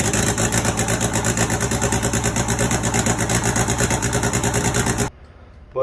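A turbocharged Miata-engine-swapped Ford Festiva runs loud and close with a steady, choppy idle rhythm, then cuts off abruptly near the end, leaving faint background noise.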